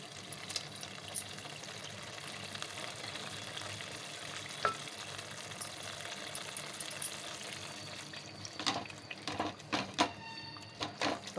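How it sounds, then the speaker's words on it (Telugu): Ginger garlic paste sizzles and fries in hot oil for a homemade chicken curry, a steady crackle with a few louder stirring scrapes and spatters near the end. "ఇప్పుడు నూరుకున్న అల్లం వెల్లుల్లి పేస్ట్ కూడా వేసుకొని వేయించుకోవాలి"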